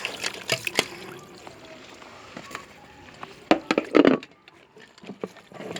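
Water trickling and splashing as garam masala spices are rinsed under a running tap in a home kitchen, with intermittent clattering and a louder splash near the end.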